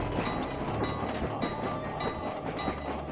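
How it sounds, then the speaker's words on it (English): Train ride in the Sly 2: Band of Thieves video game, a steady rumbling rail rolling sound with faint clickety-clack, continuous and moderately loud throughout, with no talking. "Let's ride the train to the next one."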